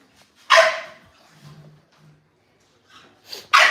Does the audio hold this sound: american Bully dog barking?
yes